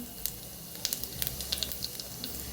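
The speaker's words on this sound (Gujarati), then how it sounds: "તો અહીંયા આપણું તેલ ગરમ થઈ ગયું છે, તો 1 નાની ચમચી જેટલું આપણે જીરું ઉમેરશું" Cumin seeds hit hot oil with a soft, close sizzle, dotted by quick crackling pops clustered across the brief moment, with no voices.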